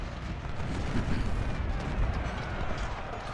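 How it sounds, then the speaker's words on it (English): Gunboats shell an artillery unit in the Ultimate General Civil War game's Battle of Shiloh, giving a dense, continuous rumble of booming cannon fire and distant explosions with no clear gaps. "Those gunboats are shelling that artillery unit, the cavalry unit up here."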